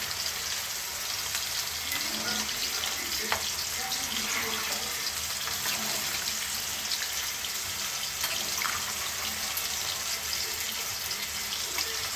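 Water poured into a pan of well-fried curry that is starting to stick, giving a steady rushing sizzle and bubbling hiss that carries on evenly at moderate loudness.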